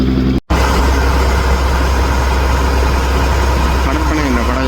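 A ferry's boat engine drones steadily throughout a crossing to Delft island, a loud, even low rumble with a brief dropout near the start.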